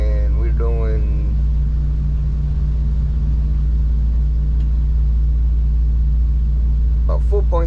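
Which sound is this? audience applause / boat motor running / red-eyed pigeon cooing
boat motor running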